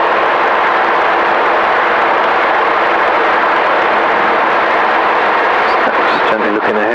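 A Robin DR400-108 light aircraft, registration G-BCXE, hums steadily at close range during a landing at Headcorn, its engine drone loud and continuous with no pause.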